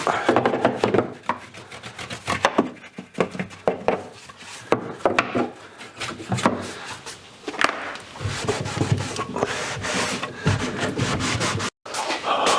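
A small brush scrubs out a hand tool in a workshop, giving steady, rapid scratchy strokes that are close and fairly loud, with a brief gap near the end.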